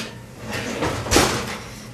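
An oven door swings open partway through baking a tray of apple cinnamon granola, a soft muffled creak and clunk with a brief louder thud near the end, close and alone.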